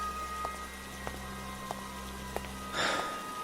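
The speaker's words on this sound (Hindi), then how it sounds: "समय के साथ तो बारिश तेज होती जा रही है" Steady rain falls in a dark, eerie horror-story scene, a soft continuous hiss with a few isolated drips tapping at intervals and a brief heavier splash of water near the end.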